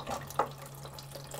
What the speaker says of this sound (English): Try to get a shot of how the pump is working.